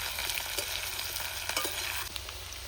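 Potatoes frying in a pan for a squash and pabda fish curry: a close, continuous sizzle with light scraping of a stirring utensil and a few soft knocks.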